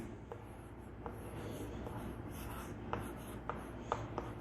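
Marker or chalk scratching across a classroom board during a physics lesson, with short strokes and taps at irregular intervals over a steady room hum. No one speaks.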